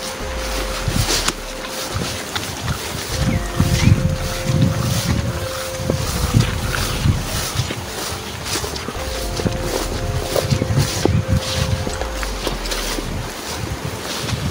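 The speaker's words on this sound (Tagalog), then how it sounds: "Malakas yung baha nga eh" Strong floodwater rushing loudly and continuously, a broad roaring wash with heavy low rumble and wind buffeting on the microphone throughout.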